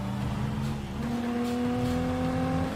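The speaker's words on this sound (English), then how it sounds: "I'm gonna pay a lot more close attention to the car sounds now that I've seen this trailer" Engine sound from a car in the Cyberpunk 2077 video game, a steady revving hum with rising tonal pitch, close and continuous without speech.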